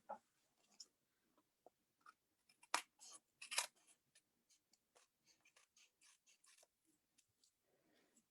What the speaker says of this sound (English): And now I'm going to go ahead and cut this section.